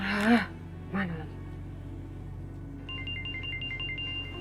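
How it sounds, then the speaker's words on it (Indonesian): A phone ringtone chirps in a repeating electronic pattern after a couple of brief vocal sounds, playing steadily through a low background hum. "Angkat tuh telepon tuh."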